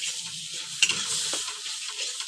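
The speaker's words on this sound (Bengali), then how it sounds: "খুব সুন্দর করে এটাকে নাড়িয়ে নাড়িয়ে নাড়িয়ে নাড়িয়ে শুকিয়ে নেবো একেবারে।" Pumpkin leaf paste cooking in a wok over low flame, stirred steadily so it dries without sticking, gives a soft continuous sizzle with scraping strokes and one sharp clink near the start, close and unaccompanied.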